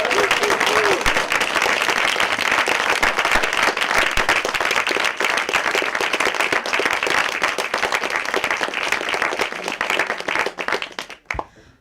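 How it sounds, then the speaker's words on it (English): Warm, sustained applause from a hackathon audience thanking the mentors, a dense wash of many hands clapping steadily at full strength for about eleven seconds before trailing off abruptly at the end. "Please give the warmest applause to the mentors for being here with us."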